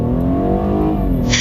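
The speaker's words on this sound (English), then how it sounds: "Now you see how fun launching your car can be." A car pulls away from a standstill in a hard drag-style launch on a public road, its engine note climbing steadily and loud, close by, with no talking over it.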